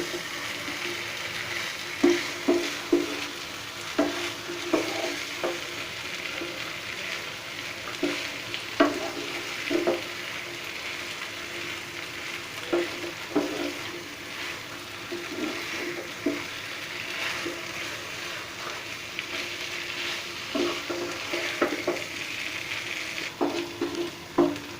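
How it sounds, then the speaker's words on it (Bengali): Taro pieces are turned over and stirred in a sizzling oil-and-spice mixture, with repeated utensil scrapes and knocks in an uneven rhythm over a constant close frying hiss. "কচুগুলোকে আমি একটু উল্টে পাল্টে নিচ্ছি।"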